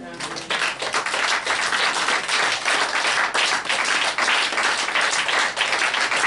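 Church congregation applauding and clapping during a sermon, a dense, steady wash of many hands that starts abruptly and continues loudly throughout, with voices mixed in.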